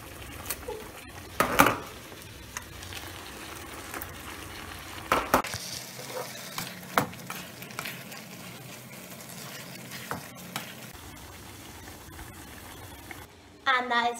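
Cooked spaghetti is tossed and mixed in a pan for a vegan meal, giving soft sizzling and scattered clacks of utensils against the pan, with a few louder knocks among quieter stirring.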